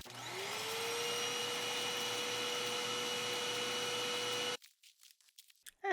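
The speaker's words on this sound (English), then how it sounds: "I once again got out my hoover and hoovered up all the loot" A hoover whirs up loot in the Sea of Thieves video game, a steady rising whine that holds for about four seconds before cutting off abruptly, followed by faint rustling clicks.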